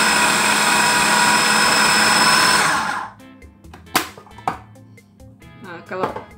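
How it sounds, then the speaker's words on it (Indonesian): A food processor grinds garlic in a loud, steady whir for about three seconds, then stops. Someone speaks over the quieter, scattered kitchen clatter that follows. "jadi ini bisa diproses di mesin sesuai dengan tingkat kehalusan yang kita inginkan ya"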